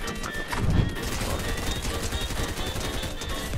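Rapid SMG fire in Fortnite rattles continuously at close range, a fast unbroken burst mixed with game noise and some voice underneath.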